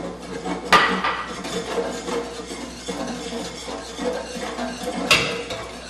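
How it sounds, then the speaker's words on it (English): Whisk working a flour and onion mixture into soup in a pot, a steady close scraping and swishing with two sharp metallic clinks against the pot, no talking. "continue to whisk so that it breaks up that flour and onion mixture"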